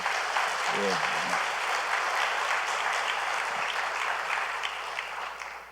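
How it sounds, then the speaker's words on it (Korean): A church congregation claps together in a sustained burst of applause, steady and fairly distant-sounding in a reverberant room, tapering off gently toward the end, with a brief murmur of voices near the start. "박수 한번 치겠습니다"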